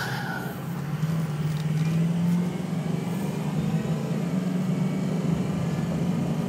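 A 2004 Ford F250 diesel pickup truck engine hums steadily and rises in pitch as it accelerates, with a smooth gear change partway through.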